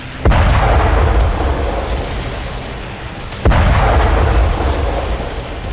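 Explosions destroying a Ukrainian S-300 missile defense system in Kharkiv: two loud, close booming blasts a few seconds apart, each followed by a long roaring rumble and crackle, with no talk.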